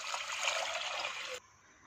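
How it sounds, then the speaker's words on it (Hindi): About four cups of water splash into a pot for masoor dal, a close, bright pouring rush lasting over a second before it abruptly stops into quiet. "इसमें 4 कप पानी डालेंगे"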